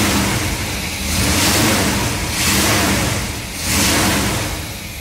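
A car engine that fires up and keeps running, a loud, close, rough drone that swells and eases in slow surges, as if revved a few times, with no voices.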